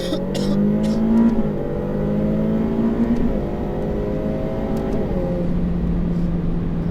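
A Ferrari F8 Tributo accelerates at full power on the Circuit de Haute Saintonge. Its engine roars loud and close, rising steadily in pitch through the gears with brief dips at each shift.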